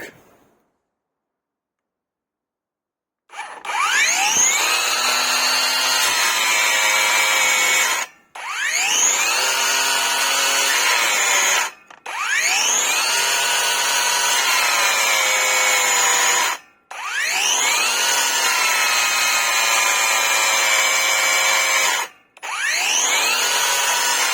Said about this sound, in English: Continuing with the rebar and the thick grinding disc.